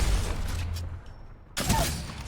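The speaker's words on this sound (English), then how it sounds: "I'm actually going to use a nade here" Grenade explosion in a first-person shooter game: a sharp, loud boom bursts in after a low rumbling lull, followed by crackling debris and game ambience.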